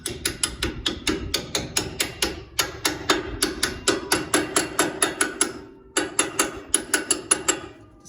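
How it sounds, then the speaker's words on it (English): Metal hammer tapping an IWE eliminator part onto the front hub of a Gen 1 Ford Raptor, close and sharp: rapid, evenly spaced light blows in several bursts with brief pauses between them. "Lightly tap that guy in place."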